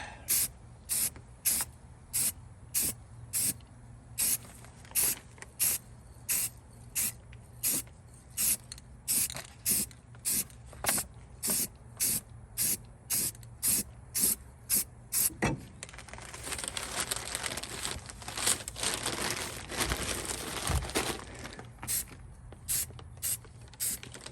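Horse trailer wheels get a second coat of spray paint: a long run of short, evenly spaced aerosol bursts, then one sustained loud hiss of spraying.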